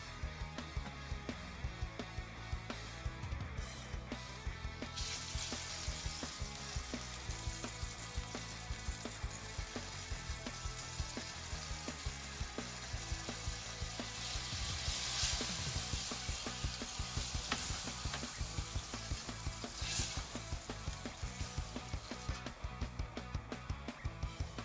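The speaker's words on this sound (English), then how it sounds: "we're going to start by making a roux, which is a mixture of our butter and flour" A butter and flour roux cooks gently over low heat, giving a soft steady sizzle and faint bubbling that lasts throughout, with occasional quiet stirring and light music underneath.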